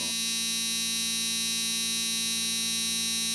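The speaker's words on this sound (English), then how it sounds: "you can hear that hum, that's the air running." A steady electrical-sounding hum from the air system of a Dodge Cummins truck with a 10-speed transmission, running with the key on, unbroken and fairly quiet, with no voices.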